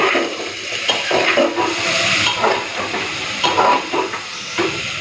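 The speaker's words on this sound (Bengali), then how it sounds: "পেঁয়াজের সাথে একটুখানি ভেজে নেব" Chicken fries in a pan with onions and bay leaves for chicken kosha, sizzling loudly up close while a utensil scrapes and stirs in irregular strokes.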